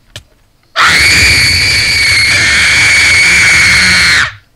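A person screams loudly and without a break for about three and a half seconds, a harsh, piercing yell that starts abruptly after a brief quiet moment and cuts off sharply.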